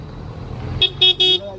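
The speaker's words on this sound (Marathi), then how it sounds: "ही बघा रिक्षा." An auto rickshaw pulls away on a village road, its engine running under three quick, bright horn toots in close succession.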